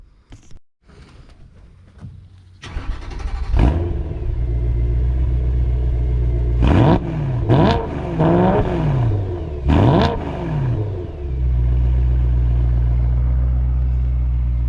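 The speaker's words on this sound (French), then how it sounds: "on va vous montrer ça, quel son ça fait quand on met un petit coup de gaz" BMW M3 E92 V8 Competition with DKG gearbox revving: a starter catch, then a steady rumbling idle broken by several sharp blips of the throttle that rise and fall, close and loud, before settling back to idle.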